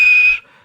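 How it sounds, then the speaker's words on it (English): Edward the steam engine sounds one short, shrill, steady whistle blast that cuts off abruptly after a fraction of a second, loud and close. "And he blew his whistle."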